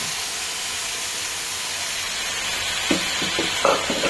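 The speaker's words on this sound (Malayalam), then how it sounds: "ഇനി ഞാൻ ബോട്ടി ഇടാൻ പോവാണ്" Precooked boti (beef tripe) hits a hot pan and sets off a steady, loud, airy sizzle and steam hiss, with a few brief clatters of the food and utensil near the end.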